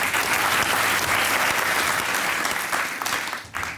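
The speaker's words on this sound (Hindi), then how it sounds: "चलो चले जी, तालियां बजाएं।" Studio audience on a comedy talk show claps in a loud, dense burst of applause that holds steady and begins to thin just before the end.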